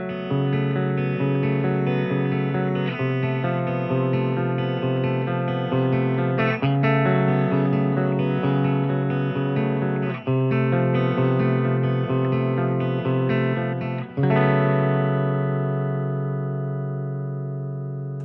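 Electric guitar plays sustained, effects-laden chords through a stereo pair of IK Multimedia TONEX powered cabinets driven by a TONEX pedal with amp captures, loud and continuous with a ringing decay at the end.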